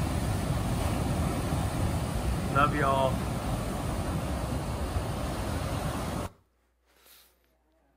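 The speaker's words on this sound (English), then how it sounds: "I thought you might enjoy some ocean waves." A steady, loud roar of ocean waves fills most of the stretch, with a person briefly speaking over it partway through, before it cuts off abruptly to near silence.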